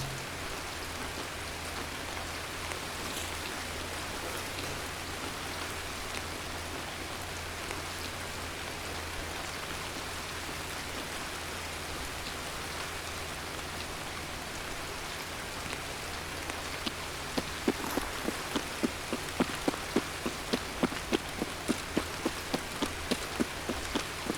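Steady rain in the video game Escape from Tarkov, a dense even hiss of falling drops throughout, with a run of faint rhythmic ticks toward the end.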